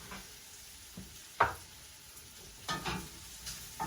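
Wild ramps and Pioppini mushrooms cook in butter in a pan, giving a faint, soft sizzle broken by a few short stirring scrapes and clatters, quiet throughout with no voices.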